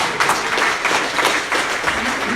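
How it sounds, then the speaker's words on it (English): Audience applause at a live Q&A event, a dense wash of clapping from a roomful of people with a few louder peaks, fairly close and steady throughout. "Give her a round of applause."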